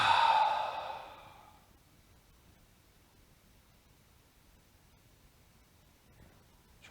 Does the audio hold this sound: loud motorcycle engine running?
no